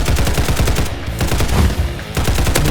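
Rapid automatic gunfire in the Roblox game Hypershot, dense loud bursts of shots crackling continuously with a brief dip in the middle before resuming at full intensity.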